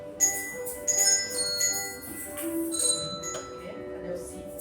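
Handbells, each marked with its own musical note, ring in scattered strikes with sustained, shimmering tones over lively talk in a group music lesson.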